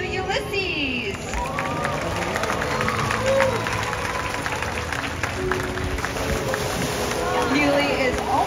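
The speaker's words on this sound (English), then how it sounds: "Everyone give a big round of applause to Ulises!" Crowd applause for Ulises, an elderly male orca, at the SeaWorld San Diego Orca Encounter show, with steady clapping and cheering from a large outdoor audience that continues over an announcer's talk.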